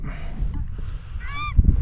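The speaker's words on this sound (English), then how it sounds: "It's Paradise Ducks" Paradise ducks calling during a small game hunt, a brief run of honking, goose-like calls at moderate distance, followed by a thump of handling noise and low rumble.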